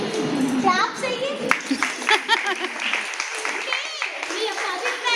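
An audience claps together in response to a speaker's request, a mix of mostly adult hands with some children's voices, with dense, steady patter and scattered chatter and speech audible throughout.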